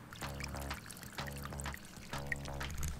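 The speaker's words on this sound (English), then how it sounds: "As you can see, water is coming down and it is not raining. And that is because it's actually hooked up to the sump pump, which is in our basement." Water from a sump pump discharge pipe splashes down into a backyard pond, a steady close trickling pour with gurgling pulses repeating about every second.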